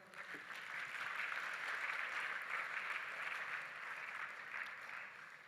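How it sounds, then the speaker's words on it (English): Steady applause from a crowd, a dense wash of clapping hands that swells and holds for several seconds without voices. "So I just want you to all give yourselves a clap."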